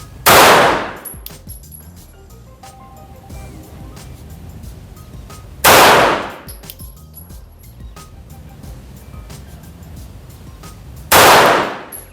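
Glock 17 Gen 5 pistol firing 9 mm rounds at a 25-meter range, three sharp loud single shots spaced about five and a half seconds apart, each with a short echoing tail and quiet background between.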